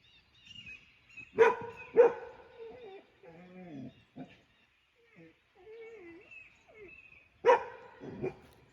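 Dogs bark in a few sharp bursts, a pair early and another later, with whining and yips between; moderately close, no talk.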